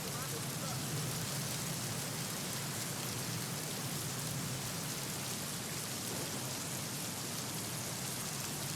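Heavy monsoon rain in Palghar district, Maharashtra, pours down in a dense, constant roar that stays loud and unbroken from start to finish.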